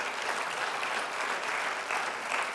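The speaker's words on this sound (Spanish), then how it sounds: "Dale el aplauso de alabanza al Señor." A church congregation applauds in praise during a Spanish-language sermon: a continuous, even wash of many hands clapping, moderately distant and sustained throughout.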